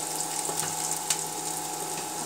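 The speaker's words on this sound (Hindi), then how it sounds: "एक कटा हुआ प्याज प्याज को थोड़ा भूनना है देखिए प्याज भून चुका है" Chopped onion fries in a pan for aloo gobi matar, giving a steady, close sizzle with occasional soft crackles and stirring clicks.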